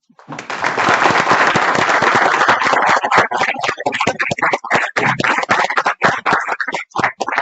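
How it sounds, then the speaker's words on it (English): A university lecture audience breaks into dense applause that thins into scattered individual claps before fading, close and loud, with no voices over it. "can I just ask everyone to give ourselves a round of applause for what is a wonderful academic community"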